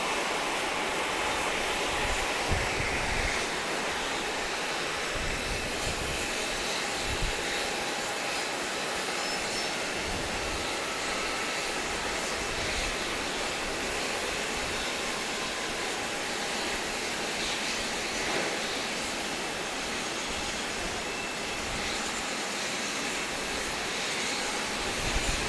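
Boeing 737-8 jet at Grand Cayman airport, a steady broad roar of jet engines that stays loud and even for the whole stretch, with no talk over it.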